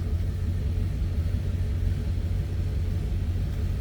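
A 1936 Packard 120-B engine fitted with a Stromberg carburetor runs with a steady, deep rumble, close and loud throughout, with no voices.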